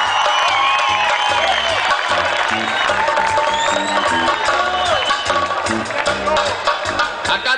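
A crowd applauds a conga player at a live salsa show, with clapping, cheers and whoops blended under loud band music and tonal sounds.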